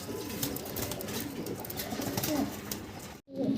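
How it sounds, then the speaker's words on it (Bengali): Soft, low cooing from a pair of Jacobin pigeons repeats against a busy background of bird chatter and ambient noise, with a brief dropout near the end. "এই জায়গায় আছে এক জোড়া জ্যাকোবিন কবুতর"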